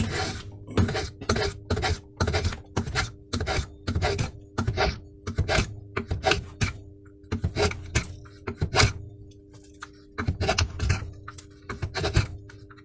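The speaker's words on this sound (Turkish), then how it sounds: "Planyamızı atmaya başlıyoruz" A hand plane shaves a wooden bağlama bridge blank in repeated quick strokes, each a bright rasping swish, grouped in bursts with short pauses between, close and loud with no talking.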